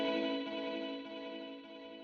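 A sustained, shimmering tone from an Eventide UltraTap delay pedal with the feedback turned up, its repeats smeared into a steady wash that slowly thins and fades across two seconds, with no speech.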